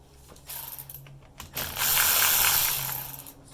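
Ratchet wrench loosening the battery terminals on a 2003–2006 Lexus ES330 V6 during a radiator replacement; a few short clicking bursts, then a longer, steady ratcheting run, close and clear with no talk.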